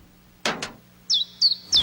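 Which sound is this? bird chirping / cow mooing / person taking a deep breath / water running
bird chirping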